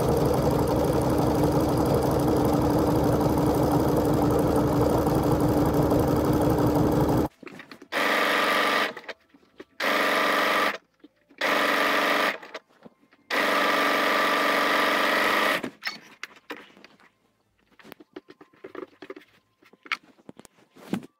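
A sewing machine top stitches lace knickers with a stretch stitch, running in a long steady burst, then in several short runs with pauses, ending in quiet handling noises.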